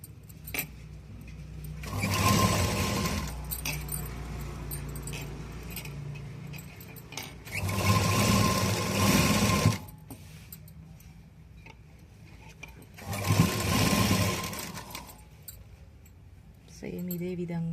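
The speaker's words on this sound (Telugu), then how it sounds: "ఈ కుట్టు చివర ఎడ్జ్కి పడేటట్టుగా కుట్టుకోవాలి" Sewing machine stitching the neck of a school uniform in three short bursts of rapid mechanical whirring, separated by quieter pauses with handling noise and a voice speaking.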